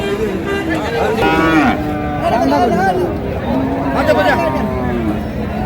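Cattle moo repeatedly and loudly at a busy livestock market, the Khochabari cattle haat in Chattogram, amid the babble of a chattering crowd.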